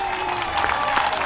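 An audience at a 2022 event in Oaxaca applauds in a short burst of steady, close clapping, the patter thickening toward the end.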